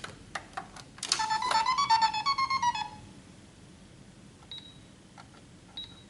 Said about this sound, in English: our lovely little cash register, which does make some sounds